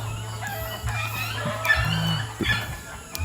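Chickens cluck and murmur nearby, with a few sharper calls mixed into a low, continuous hum in the background.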